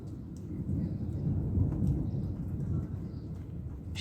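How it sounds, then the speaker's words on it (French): Low, rolling thunder from a thunderstorm outdoors, a steady deep rumble that swells toward the middle and then eases, with no voices. "Il vient de faire un punaise d'orage."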